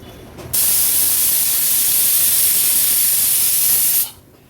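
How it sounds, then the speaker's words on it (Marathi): A pressure cooker full of mutton vents steam in a loud, steady hiss that starts abruptly, holds for about three and a half seconds, then cuts off, with quieter kitchen ambience before and after. "कुकरला झाकण लावून घेते आणि जवळपास आठ ते दहा शिट्ट्या ह्याच्या आपण काढून घेणार आहोत"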